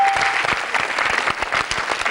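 A studio audience claps steadily and loudly, a dense patter of hands throughout the short burst, with no one speaking over it.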